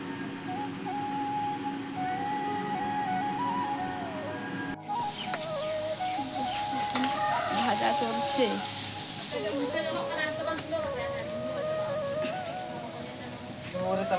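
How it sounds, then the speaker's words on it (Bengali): Fried rice sizzles and crackles steadily in a hot pan, with clinks of stirring and people talking nearby throughout. "ভাজা চলছে"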